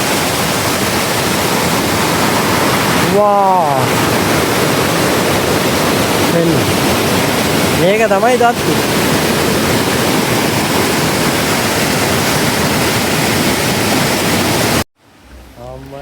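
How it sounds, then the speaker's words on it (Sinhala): Rushing flood water pours along the Kuruwita route toward Sri Pada in a loud, steady roar that fills the whole clip, with a voice briefly exclaiming over it twice. "මේ වතුර පාර එකපාරට වැඩි වුණා"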